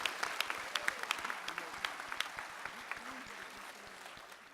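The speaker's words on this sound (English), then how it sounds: "let's give him a round of applause for our instructors and our fire rescue staff" Graduation ceremony crowd applauding fire rescue staff and instructors, scattered individual claps heard at a distance, fairly quiet and sparse, tapering off over a few seconds.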